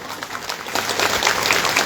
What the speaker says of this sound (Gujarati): તાળીઓ ઓછી ના પડવી જોઈએ.